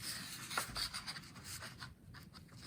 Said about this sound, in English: now I can cut off